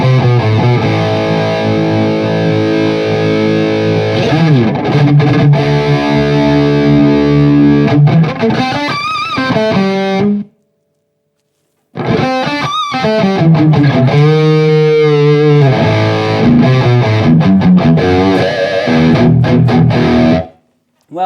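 Heavily distorted electric guitar through an ENGL Powerball 2 amp, a Jackson JS32 King V playing riffs and sliding lead lines, loud and up close, with a brief silent break in the middle.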